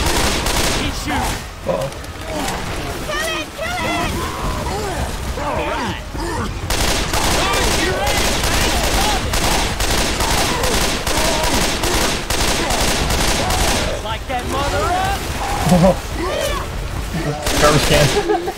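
Rapid bursts of gunfire from a Left 4 Dead 2 zombie-shooter session at the port, near and loud, repeating almost nonstop through the whole stretch with occasional heavier booms, while players talk over it.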